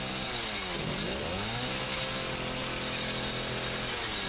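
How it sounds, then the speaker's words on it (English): Chainsaw in Resident Evil 7, engine droning loud and continuous with a couple of sweeping pitch dips as it revs, then a steady buzzing run. "Oh, okay, I do get the chainsaw."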